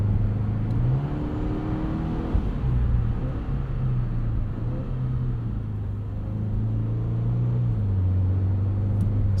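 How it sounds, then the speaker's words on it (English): A 2022 Subaru WRX GT with a CVT heard from inside while braking hard, the engine drone stepping down in pitch through several simulated downshifts, steady and fairly loud. "Nice downshifts under heavy braking."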